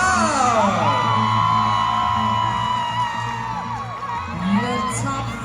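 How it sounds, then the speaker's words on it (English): At a Miss Universe Jamaica pageant, a large audience cheers loudly with whoops, shouts and screams over continuous applause, a dense, sustained roar that stays close and full throughout. "Let's keep the applause going."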